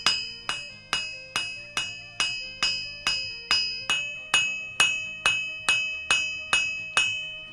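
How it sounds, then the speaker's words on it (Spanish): Hammer blows on a hot knife blade being forged and drawn out thin at the anvil, about fifteen evenly spaced ringing metallic strikes, close and loud, each decaying before the next. "con el martillo estirar para conseguir dejarlo lo más fino posible para hacer el filo de la navaja"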